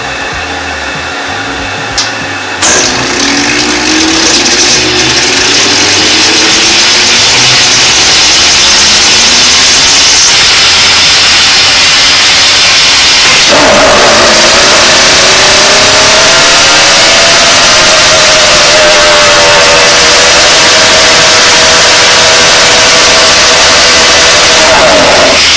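Racing engine running loud and steady during carburetor tuning, with rising and falling revs and a sustained roar that dominates the whole stretch at close range.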